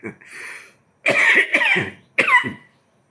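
An elderly man coughs in three rough bursts: one shorter hack, then a pair of harsh coughs, then a final cough, each loud and close with brief silence between.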